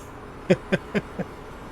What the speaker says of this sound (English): Is the steam train making all that racket?